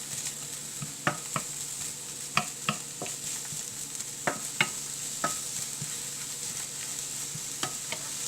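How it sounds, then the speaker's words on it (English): Chopped onions fry in a pan for a tofu kofta curry, a constant sizzle broken by sharp, irregular clicks and scrapes of a spatula stirring against the pan. "chopped onions, just fry it."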